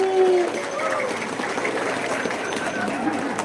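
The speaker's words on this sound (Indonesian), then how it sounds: "Tepuk tangan dulu dong buat santri." Clapping from a crowd at an Islamic sermon gathering, a dense, steady wash of applause held at an even level for a few seconds, with some voice sounds mixed in.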